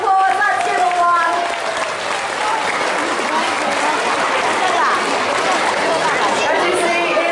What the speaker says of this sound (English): I think they need the largest round of applause. Let's give them one